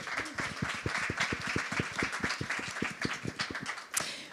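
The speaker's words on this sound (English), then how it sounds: "A big round of applause," An audience at a panel talk claps for the speakers being introduced, with distinct individual claps forming a steady, moderately quiet round of applause heard alone without speech.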